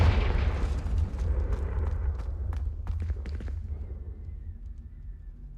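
Confringo blasting spell explosion in a video game, a loud low rumbling blast that booms at the start and decays over several seconds, with scattered crackling debris and a faint tone at the end.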